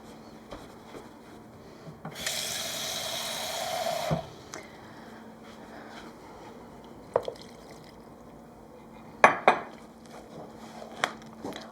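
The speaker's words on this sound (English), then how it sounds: "so I'm going to add some water to this." Tap water runs for about two seconds as it is added to a bowl of shaggy no-knead bread dough, followed by scattered drips and sharp clinks of utensils against the bowl in a quiet kitchen.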